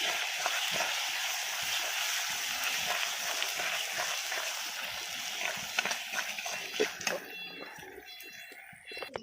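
Garam masala paste sizzles in a hot pan while being sautéed for a chicken dish, a steady close hiss with stirring scrapes that thins out near the end.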